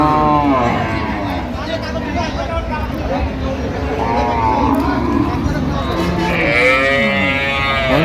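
Cows and calves mooing repeatedly at a busy cattle market in Ambari, Dinajpur, with several low calls rising over a steady crowd murmur and nearby voices throughout.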